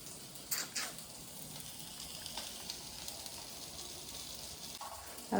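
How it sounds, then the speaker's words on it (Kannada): Fish coated with turmeric, salt and rice flour frying in a pan: a steady, soft sizzle with faint crackles and pops throughout, fairly quiet and close. "ಸಾಶನಿಗೆ ಫಿಶ್ನ ಫ್ರೈ ಮಾಡೋಕ್ಕಿಟ್ಟಿದ್ದೇನೆ"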